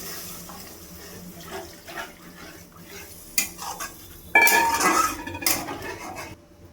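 Homemade coconut milk poured into a hot pan of cooked-down spices for prawn malai curry, a close, wet pouring splash with utensil clatter and clinks of pots, no voices.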